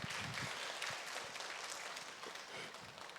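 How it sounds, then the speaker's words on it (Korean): A church congregation applauding during a Sunday afternoon praise service, a brief burst of many hands clapping at moderate distance that fades slightly over a few seconds, without talk. "우리 김봉수님 박수 한번 쳐요."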